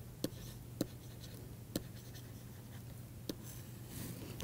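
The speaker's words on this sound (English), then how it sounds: "I want to write lemma." Handwriting during a mathematics lecture on change of bases, probably chalk or pen on a board: a few faint, sharp taps and scratches at irregular intervals over a quiet hum, with no one speaking.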